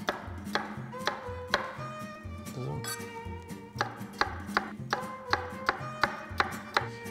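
Knife slicing cucumber into sticks on a cutting board, a steady series of crisp, close chops repeating about every half second, with faint room background and no talk.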